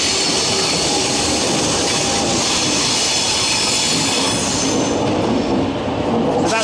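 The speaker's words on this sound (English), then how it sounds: "So that's my train to Dortmund," A train bound for Dortmund at Brussels Midi station rumbles loudly and steadily close by, with wheel squeal and metallic rail noise running throughout and no voices.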